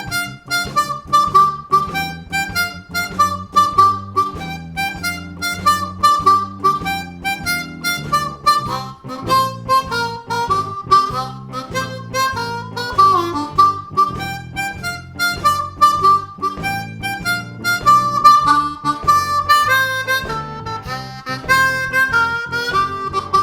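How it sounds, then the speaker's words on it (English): A lone harmonica plays a descending box shuffle bass line for a 12-bar blues, with a bouncy, evenly repeating shuffle rhythm of chugging notes that stays loud and clear throughout. "it's a bass line called a descending box shuffle"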